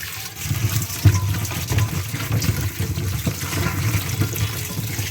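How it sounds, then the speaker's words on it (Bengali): Okra rinsed under running tap water in a home kitchen: a steady, continuous gush of water with small splashes and clatter, close by and without talk. "প্রথমেই খুব ভালো করে জল দিয়ে ঢ্যাঁড়সগুলোকে একটু ধুয়ে নিচ্ছি"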